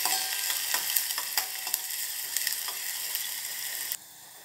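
Onions frying in coconut oil, a steady close sizzle with small crackles and a few spatula scrapes and stirs, cutting off sharply near the end to a quieter hiss.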